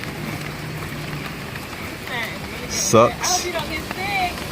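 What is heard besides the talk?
heavy rain falling outdoors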